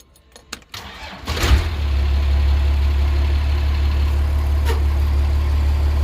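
A cold 1949 Cummins diesel in a truck with a newly installed exhaust brake cranks over after a few clunks, catches, and settles into a loud, steady, low idle rumble that continues alone to the end.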